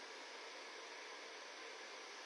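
A blow dryer fitted with a diffuser runs on low heat, giving a steady, close, even whooshing hiss with no variation over its brief span and no voices.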